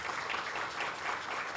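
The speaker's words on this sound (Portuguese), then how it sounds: "Então, uma salva de palmas para o Rafael Capurro" Steady applause from a conference audience at the opening of an international information integrity conference, continuous and fairly full for under two seconds with no voices over it.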